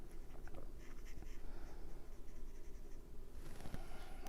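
Stampin' Blend markers colour a stamped paper image, giving a soft, close, scratchy rubbing of felt tip on card in short continuous strokes.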